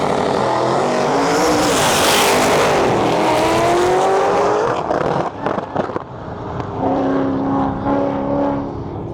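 Chevrolet Chevelle drag racing down the track at the Miles of Mayhem event, a loud, roaring engine launching and climbing through gears with a rising whine, then shifting and fading as the car pulls away.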